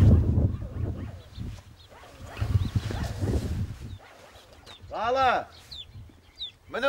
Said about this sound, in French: Il y a juste un chien qui aboie.